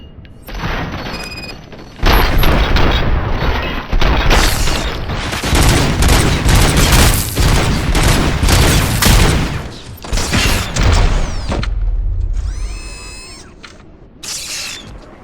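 Gunfire from the video game RoboCop Rogue City, dense sustained bursts of shots and booming impacts filling most of the clip, loud and close, with a brief quieter lull and electronic tones near the end.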